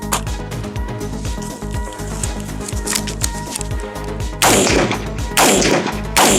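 A budget AR-15 rifle fires in bursts, with sharp loud gunshot blasts standing out near the end over a busy background of repetitive thumping and clatter.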